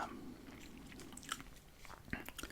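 Close, quiet chewing of Australian PK licorice and mint gum: soft wet smacks and small crunchy bites come irregularly over a low background hiss, with no talking.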